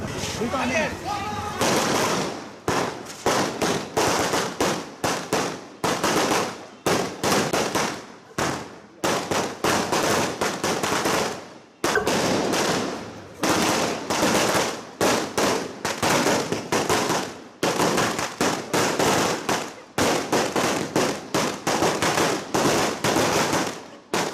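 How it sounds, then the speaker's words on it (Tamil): Strings of firecrackers burst in rapid, crackling volleys at an outdoor celebration by plantation workers, loud and close with brief gaps between bursts and some voices faintly underneath. "எங்கள் மக்களுக்கு சந்தோஷத்துக்காக வெடி போட்டிருக்கு"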